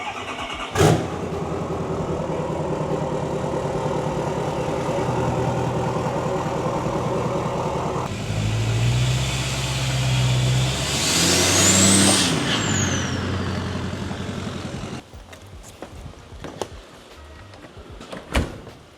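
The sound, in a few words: pickup truck engine starting by remote start and idling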